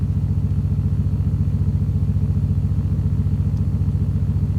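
A Nissan 240SX with an idle hesitation problem runs in drive with a loud, close, steadily pulsing engine rumble that holds fairly even with no talking.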